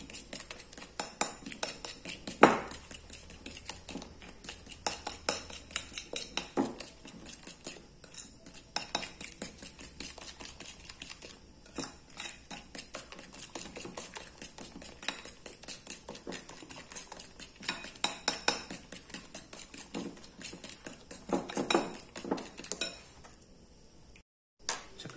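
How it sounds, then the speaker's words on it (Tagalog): A utensil clinks and scrapes steadily against a bowl while a mixture is stirred, producing a rapid, uneven tapping that continues close and alone for the whole stretch. "Haluin na po na mabuti, guys."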